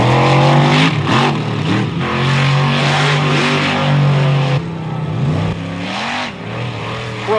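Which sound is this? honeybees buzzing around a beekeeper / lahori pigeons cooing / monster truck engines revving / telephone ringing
monster truck engines revving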